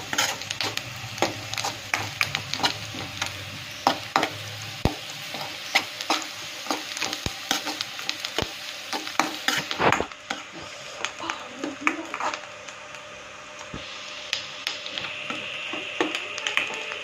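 Prawns seasoned with salt and chili powder fry in a pan for a prawn curry, sizzling steadily while a utensil scrapes and stirs in frequent sharp clicks; a voice talks intermittently over the cooking.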